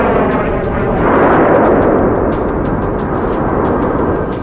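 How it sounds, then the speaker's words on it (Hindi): Loud, sustained missile impact blast on the ground with a heavy roaring rumble and crackling debris, lasting several seconds at close range. "और फिर जमीन पर जोरदार धमाका होता है,"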